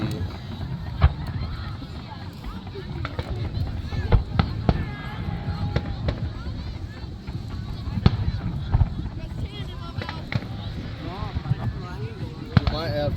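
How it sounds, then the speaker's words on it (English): July 4th fireworks go off with scattered sharp bangs and pops, some near and some farther away, over a steady background of outdoor crowd noise and nearby chatter. "What happened to the top firework?"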